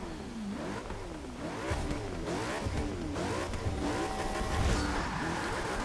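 Race car engine in Forza Motorsport 6 on a lap at Watkins Glen, loud and continuous, revving up and down repeatedly through gear changes with sweeping pitch, no talking over it.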